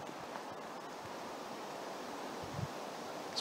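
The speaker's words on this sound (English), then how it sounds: "It's a little windy up here, guys." Wind gusting across an exposed mountain slope at night, a steady broad rushing hiss with faint low buffeting on the microphone and no voices.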